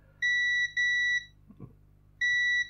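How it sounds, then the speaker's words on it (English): A multimeter's continuity tester sounds three short, steady electronic beeps, each about half a second long, while probing the board of a faulty NES Mini console, with a faint clunk from the probes between beeps. "Now let's check it with the multimeter."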